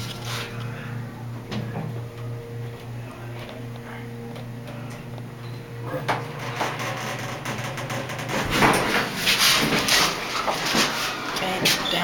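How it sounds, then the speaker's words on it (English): An old Otis Series 1 elevator at IKEA in Richmond, B.C. hums and ticks as it runs, a steady close motor drone with small clicks that grows busier and louder near the end. "It's an old elevator at IKEA. Otis."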